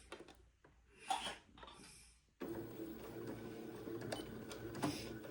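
A sewing machine stitches the back of a tab on an Eton suit. A few quiet handling knocks come first, then a steady mechanical whir runs to the end.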